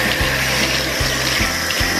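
Hot tap water runs steadily into a sink while white shoes are rinsed, a continuous close hiss of flowing water with low pump-like hum pulses underneath and no talking.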